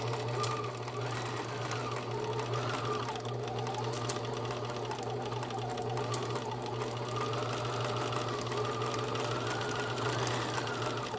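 Sewing machine stitching a seam sample forward and then in reverse, a steady close mechanical whir with rapid needle chatter, running alone without talk.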